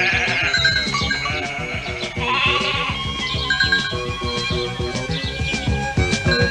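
Cartoon sheep bleat repeatedly over a busy musical score, several overlapping calls rising and falling throughout, fairly loud and close in an animated children's show.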